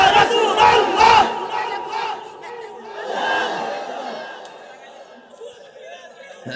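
A crowd at an Islamic religious gathering chants a slogan in unison, loud shouted voices in a couple of strong bursts followed by a quieter, trailing second call.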